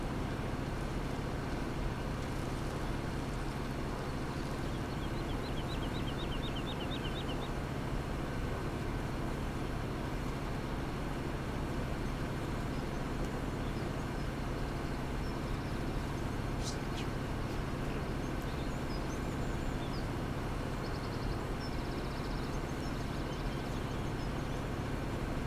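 A tractor in the Farming Simulator 17 video game drives on with a steady, unbroken engine drone at moderate loudness, holding a constant low hum with no clear changes.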